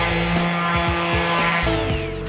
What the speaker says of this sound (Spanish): vas a proceder en este momento a lijar este